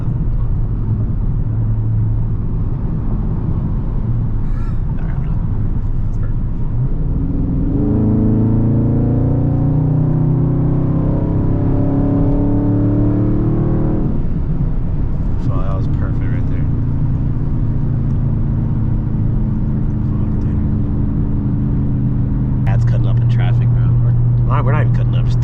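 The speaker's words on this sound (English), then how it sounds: "We're not even cutting up, just two Scats just cruising in traffic, bro" Two straight-piped Dodge Scat Pack cars cruise through traffic, their loud droning exhausts rumbling up into a harmonic roar as one accelerates, then settling into a lower burble, heard from inside with a voice talking over it.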